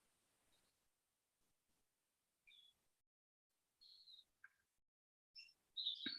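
Small birds singing outdoors, heard faintly through closed double-pane windows: scattered short high chirps and whistled notes with quiet gaps between, growing a little louder toward the end.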